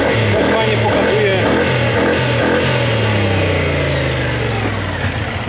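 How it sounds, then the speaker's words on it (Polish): A 2019 Kymco AK 550i scooter engine runs loud and close through its factory exhaust, buzzing steadily as the revs rise and dip with a shifting pitch. "Naprawdę brzmieniowo jest to najładniejsze brzmienie skutera, jaki słyszałem. Chodzi oczywiście o fabryczny wydech."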